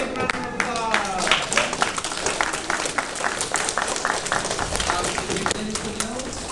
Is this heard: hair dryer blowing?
no